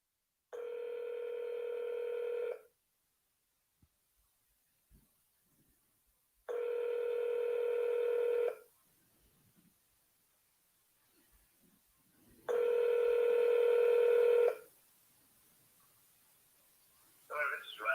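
Telephone dialing tones sound during a cold call to a for-sale-by-owner seller, three long steady beeps with silent gaps between them, clear and fairly loud.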